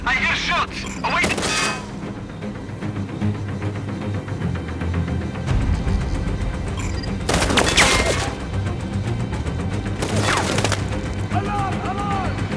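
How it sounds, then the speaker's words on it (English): Distant gunshots and crackling fire in the video game Sniper Ghost Warrior Contracts 2 pop intermittently over a steady rumble, with a few louder bursts and voices talking through parts of it. "I hear shots."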